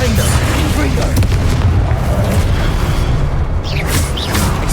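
Confringo explosion spell blasts in the Hogwarts Legacy video game, a dense, loud booming roar with continuous low rumble and crackling debris throughout, layered with other spell effects in constant combat.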